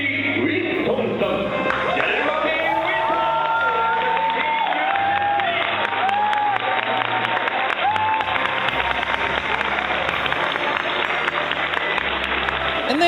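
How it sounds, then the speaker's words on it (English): A large crowd at a Yu-Gi-Oh! championship breaks into sustained applause and cheering, loud and dense throughout with scattered whoops rising above the steady clapping. "a tremendous cheer erupted"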